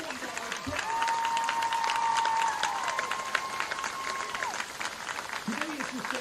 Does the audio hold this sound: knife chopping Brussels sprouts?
no